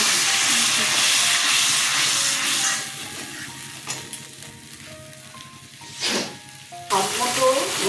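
Whisked yogurt hits hot oil with katla fish in the pan, setting off a loud hissing sizzle that fades into a quieter bubbling fry with occasional stirring scrapes and a brief flare near the end.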